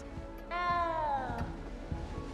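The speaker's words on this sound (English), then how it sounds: "You don't need to be frightened, little cat." A cat in Hogwarts Legacy lets out a single drawn-out meow that rises and slowly slides downward, fairly clear over a low background hum with faint thumps.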